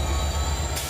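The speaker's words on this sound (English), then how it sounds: "A Union Pacific freight moves through the Lincoln Heights corridor" A Union Pacific freight train rolls along the tracks through a rail corridor, a steady close rumble with high wheel squeal riding over it, continuous for under a second.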